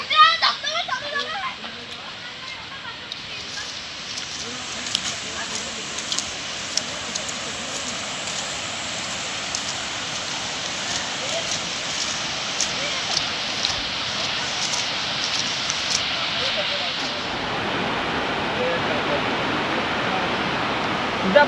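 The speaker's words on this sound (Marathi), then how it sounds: "धबधबा हो, चालू आहे बघा" A dam waterfall pours in a steady broadband rush that stays constant throughout, with people talking and calling out over it.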